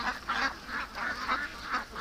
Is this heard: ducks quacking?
yes